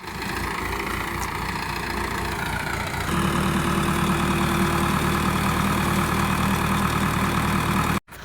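A tractor engine idles steadily outdoors while freshly cut bananas are unloaded, a continuous loud rumbling drone that grows slightly heavier partway through and then cuts off abruptly at the end.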